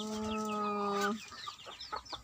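A rooster lets out a loud drawn-out crow up close, followed by several short clucks from chickens nearby.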